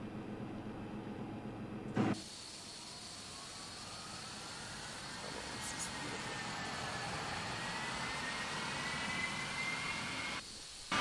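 Simulated Boeing 787-9 jet engines spool up in a flight simulator game, a low steady rumble with a rising whine that climbs gradually over several seconds, bracketed by brief clicks of cockpit controls at start and end.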